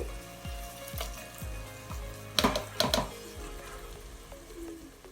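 Chopped tomatoes for a mutton curry sizzle steadily in a hot pan, with a series of regular scraping stir strokes and a couple of louder clattering stirs midway, close and without talk.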